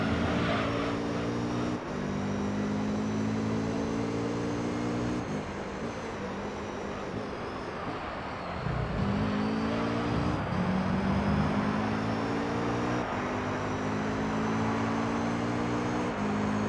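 A racing car engine in Gran Turismo 3 on the Trial Mountain circuit drones steadily throughout, its pitch climbing through the gears and dropping briefly at each shift, with no talking.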